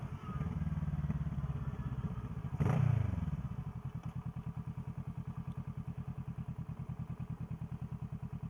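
A motorcycle out on a ride puts out a steady, rhythmic engine pulse throughout, with one heavier thump partway through, then an even, moderately quiet putter.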